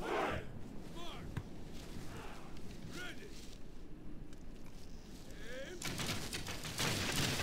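Scattered musket and gunfire volleys crackle throughout a Medieval II: Total War battle in the Americas campaign, a steady noisy din with sharper reports and louder bursts near the end, no voices over it.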